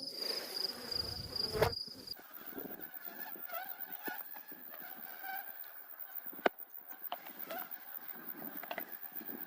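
A crowded honey bee colony buzzes in an open hive, a close, wavering hum with a brief louder rustle at the start and scattered clicks throughout.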